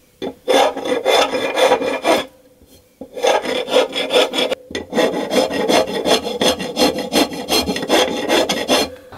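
A hand tool rasping along an oiled wooden axe handle to smooth and taper it, loud close strokes in quick rhythmic runs with two short pauses.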